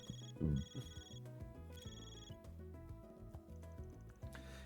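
A phone rings in the video game Trails through Daybreak, with short repeated electronic tones sounding over quiet in-game music.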